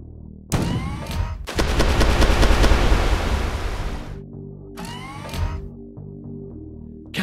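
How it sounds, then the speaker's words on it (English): A loud naval cannon shot in the Battle Fleet naval warship game erupts with a rumbling, crackling roar that sustains for a few seconds before fading, followed by a shorter second burst and lingering low engine hum. "Fire the shot once you're ready."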